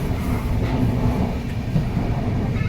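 A steady, loud rumble of a train nearing Anand railway station dominates throughout, deep and continuous, with faint clatter riding on top and no voices.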